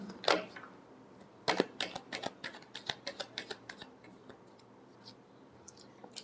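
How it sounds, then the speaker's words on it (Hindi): Tarot cards shuffled close by, a quick run of light riffling taps and flicks after a few louder slaps, faint and alone. "last shuffle"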